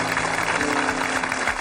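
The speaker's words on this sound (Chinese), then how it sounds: "鼓掌" A studio audience at a televised debate show claps together, a dense, steady wash of applause lasting under two seconds with no pauses.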